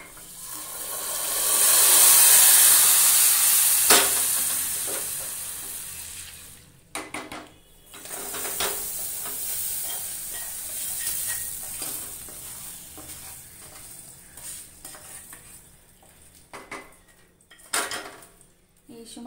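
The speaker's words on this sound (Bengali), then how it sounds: "এবার আমি শিমুইটা ঢেলে দেবো।" Fried vermicelli for chhana-ball payesh slides into milk heating in a pot on a high gas flame, with a loud hissing sizzle early on, then metal spoon scrapes, clinks and stirring knocks against the pot.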